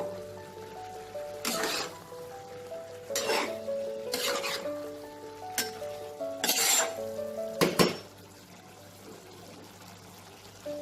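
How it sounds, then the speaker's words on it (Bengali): A spoon works through kachki fish chorchori with potatoes in a pan just uncovered, giving repeated bursts of scraping and clinking against metal over a soft, steady sizzle, close by with no talk. "খুলে আস্তে করে আমি একটু নাড়াচাড়া করে দেবো।"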